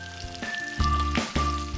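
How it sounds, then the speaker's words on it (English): Chicken legs and thighs sizzle and crackle in hot oil in a cast iron skillet, with bursts of louder spitting as pieces are laid into the pan skin side down. "So on to frying."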